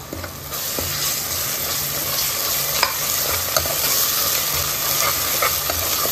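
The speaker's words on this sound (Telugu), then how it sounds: "మనకు ఉల్లిపాయ ముక్కలు తొందరగా ఫ్రై అవ్వాలి కాబట్టి కొంచెం ఉప్పు వేసుకున్నాము, తొందరగా ఫ్రై అవుతాయి" Sliced onions with salt and ginger garlic paste fry in a pan, a loud, continuous sizzle with stirring scrapes and a few brief clicks, heard alone without voices.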